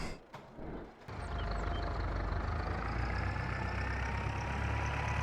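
A loader tractor fitted with a Göweil bale grab in a farming video game hums with a steady, low engine drone that settles in after a brief quieter start and holds constant.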